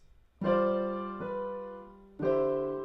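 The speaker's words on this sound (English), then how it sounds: "a C dominant chord, and it sounds like this." A piano strikes a full C dominant seventh chord that rings and decays, is restruck, then sounds again after a pause, close and moderately soft.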